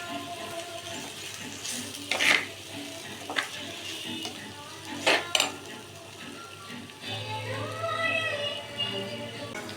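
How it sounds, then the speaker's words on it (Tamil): Food sizzles steadily in a hot pan while a utensil scrapes and stirs, with occasional louder clatters against the metal. "இந்த மாதிரி பொன்னிறமாக வறுத்து எடுத்துக்கணும்."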